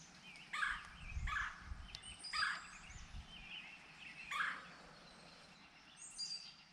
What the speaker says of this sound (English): These are red-bellied woodpeckers.